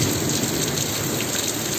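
Heavy rain pours down in a dense, loud, steady hiss, drumming hard on surfaces with no pauses.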